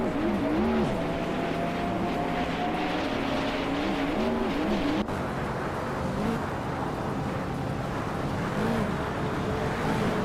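Race cars roar continuously at close range, engines revving up and down with shifting pitch as cars fight for position and overtake, a brief cut midway, with no talk.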